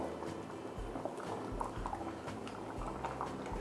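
Dobradinha, a Brazilian tripe stew, simmers in a pot with a steady low bubbling and soft liquid pops. The sound carries on continuously at moderate level with no voices.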